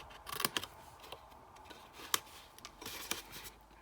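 Scissors trim cardstock into tabs in short close snips, several quick crisp cuts with soft paper rustles between them in a quiet room.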